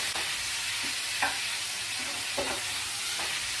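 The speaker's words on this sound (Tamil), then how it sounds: "பச்சை மிளகாய் வதங்கிட்டு இப்ப இந்த தக்காளியை போட்டுக்கிறேன்." Tomatoes frying in hot oil with green chillies and curry leaves for tomato rice: a steady close sizzle broken by a few soft stirring scrapes of a spoon in the pan.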